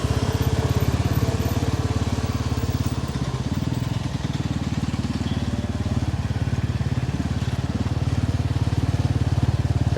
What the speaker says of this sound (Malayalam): അതിന് വേണ്ടിയിട്ട് മണ്ണ് എടുത്ത് താഴ്ത്തിക്കൊണ്ടിരിക്കുന്ന ഒരു കാഴ്ചയാണ്